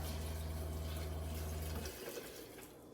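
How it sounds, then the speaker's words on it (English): Water pours steadily into a blender jar while making oat milk at home, a continuous close splashing fill that lasts about two seconds, then tapers off into quieter trickling and drips with no talking. "I'm going to add my water."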